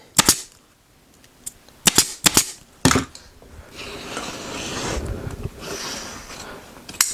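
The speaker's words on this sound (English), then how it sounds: "I can staple down there and then cut that excess out, cut that bit off there as well, and then staple that down" A staple gun fires into leather stretched over a chair during reupholstery, giving several sharp close snaps in small clusters, followed by softer rustling and handling of the material.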